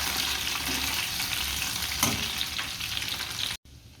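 Garlic fries in a pan with an oily pasta sauce base, giving a steady loud sizzle and hiss throughout, with a brief stir or scrape near the middle before the sound cuts off sharply near the end.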